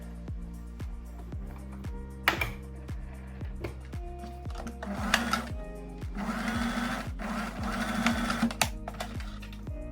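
A sewing machine stitching a blouse seam, its needle thumping in a fast, even rhythm up close, with occasional fabric handling and rustling noises layered over the mechanical hum.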